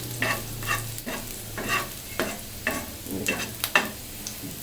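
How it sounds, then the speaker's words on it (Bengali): Slit green chilies frying in hot oil alongside potato and meat curry preparation, with a steady sizzle punctuated by repeated scraping stirs of a spatula in the pan, close and clear. "এখন মরিচগুলো দিয়ে দিই"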